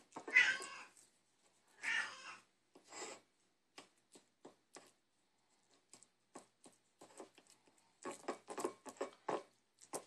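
Excited house cats meowing and yowling at breakfast time, several loud close meows early on, then lighter rustling and pattering, then a burst of overlapping cries near the end.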